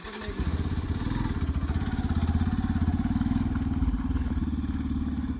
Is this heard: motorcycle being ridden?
yes